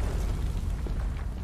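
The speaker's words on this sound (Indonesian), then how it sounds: "Wih, meledak kan" A deep, rumbling explosion from a Space Godzilla versus Space Bloop animation, a dense low roar that holds steady and loud for the full second and a half with no break.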